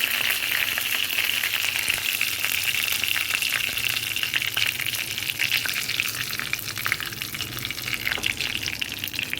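Washed curry leaves spit and crackle in hot oil for a jackfruit curry, a dense continuous sizzle with sharp popping bursts throughout, close and without speech.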